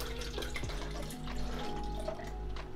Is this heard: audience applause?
no